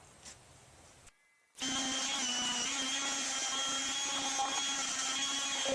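A router bit cuts into a fiberglass part of a fiberglass-and-foam mini pontoon boat: after a quiet start and a short gap, a loud, steady, high-pitched machine whine runs without pause.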